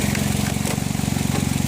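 Car engine idling steadily while the ignition timing is being set, a loud, even low-pitched rumble with a regular pulsing beat, close and without speech.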